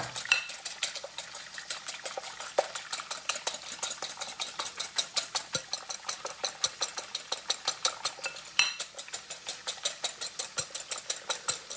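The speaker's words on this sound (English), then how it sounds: "the 2 jumbo eggs are now nicely whipped" Two jumbo eggs whisked briskly in a bowl, a steady rapid series of close, clinking strokes against the sides repeating without pause.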